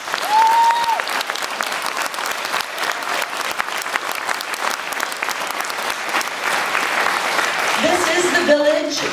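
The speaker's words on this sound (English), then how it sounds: "Another round of applause" Sustained loud applause from a nursing conference audience at Vanier College fills the room, with steady dense clapping that swells again near the end while a few voices break through.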